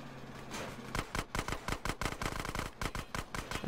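Rapid automatic gunfire from a machine pistol in GTA San Andreas, fired at enemies in short bursts with sharp, close cracks in an irregular rhythm.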